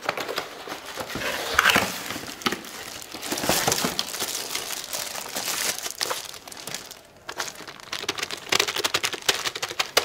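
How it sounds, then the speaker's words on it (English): An Alienware keyboard from an X51 desktop unboxing is handled amid crinkling plastic wrap and packaging rustles, with scattered light clicks and taps, close and fairly continuous. "It's a keyboard."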